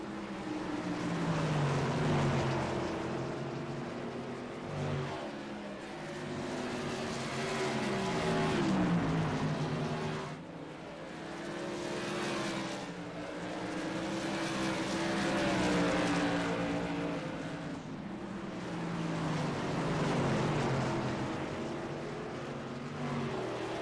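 Modified race cars roar around the asphalt oval at Myrtle Beach Speedway in a steady engine drone, swelling and fading in waves as the pack passes, with no voices over it.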